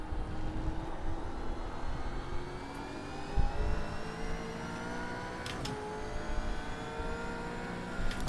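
A Gen 3 V8 Supercar racing at Watkins Glen in iRacing, its engine droning steadily throughout with rising and falling pitch through gear changes, loud and continuous with no talk.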